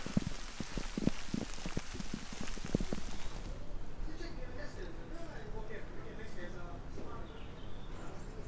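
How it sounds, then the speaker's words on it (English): Rain falling on a hiking trail in Millstreet, County Cork, pattering steadily close by as a soft, continuous hiss with scattered drops, starting with sharper taps. "It's raining now"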